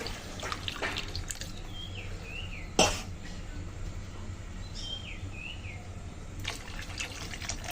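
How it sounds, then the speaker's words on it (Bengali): Water is poured into a pot of mung dal with taro, giving a steady low gush and trickle, with a sharp clatter near the middle and a few faint chirps in the background. "পরিমাণ মতো জলও দিয়ে দিচ্ছি আমি"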